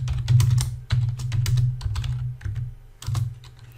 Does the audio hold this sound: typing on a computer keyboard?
yes